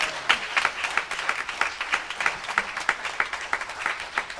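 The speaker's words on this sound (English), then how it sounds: "Would you give the Lord a hand clap of praise?" A church congregation claps in praise, a rhythmic run of many hands clapping together at a steady beat, fairly close and unbroken by talk.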